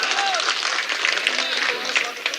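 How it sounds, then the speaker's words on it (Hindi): Applause from the crowd at an Urdu-Hindi poetry gathering in Samastipur, Bihar: a short, lively burst of clapping mixed with voices and cheering from the audience. "पुरजोर तालियां बजाएं"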